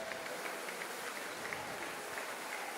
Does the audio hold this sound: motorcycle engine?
no